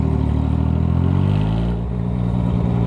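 A Yamaha MT-09 motorcycle with a straight-pipe exhaust revs loudly up close, its deep engine note climbing and dropping in pitch over a few seconds.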